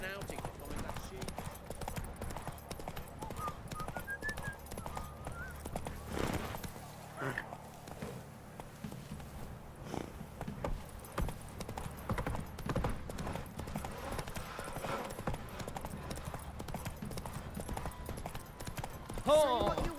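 Hooves of the horse Roach clip-clop in The Witcher 3 video game, a steady, fairly quick rhythm of hoofbeats that continues throughout, with a neigh or whinny appearing in the mix.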